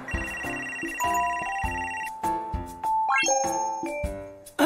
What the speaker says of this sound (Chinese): 媳妇儿，接个电话。